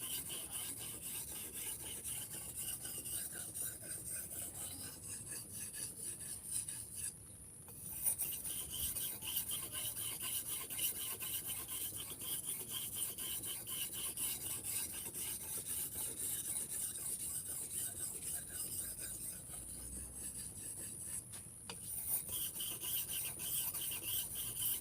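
Steady coarse rasping of a machete being sharpened on a wet whetstone, continuous strokes running throughout with a brief pause partway, close and fairly loud.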